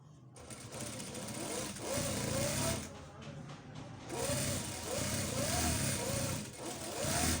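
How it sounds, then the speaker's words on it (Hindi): A sewing machine stitches a child's shalwar, running in bursts of rapid mechanical rattling with brief pauses and changes in speed between runs, close and fairly steady, with faint voice underneath. "अब हम इसको पहले कंकर की सिलाई लगाएंगे नीचे से"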